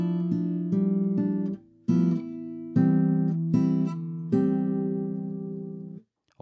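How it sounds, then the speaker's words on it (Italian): Classical guitar plays two measures from a Julio Sagreras beginner lesson, a steady run of plucked notes over sustained bass tones, each chord ringing briefly before the next, close and clean, ending in a short silence. "Vi voglio far sentire la battuta numero 3 e la battuta numero 4."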